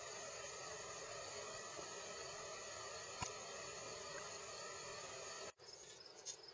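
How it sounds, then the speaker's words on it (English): Billions of tiny bugs swarm outdoors beside the flat-water Colorado River, their wings making a steady, faint high whir that fills the air without pause, broken by a brief click and a short drop near the end. "Billions of little bugs. Enough of them so that the sound of their wings make a whirring sound."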